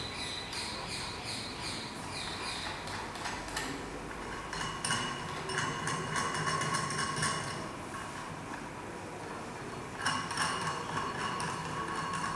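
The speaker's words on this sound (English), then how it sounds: "we have to make it tight using this nut and bolt arrangement" A nut and bolt are tightened on a constant head permeameter in a soil lab, producing quiet, repeated metallic ratcheting clicks and small mechanical rattles at close range, with no talking.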